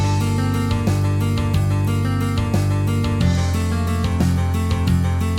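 Multi-track song playback from Guitar Pro with all parts combined, a dense steady mix of sustained chords, bass and drum hits playing continuously at full level with no voices.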